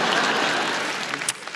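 Audience in a large concert hall at a stand-up show applauding, a dense, loud wash of clapping that thins out and fades toward the end.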